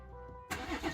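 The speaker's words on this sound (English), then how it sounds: "Start the car up." A BMW M140i engine cranks and catches, a low hum giving way abruptly to a loud, broadband roar as it starts up nearby.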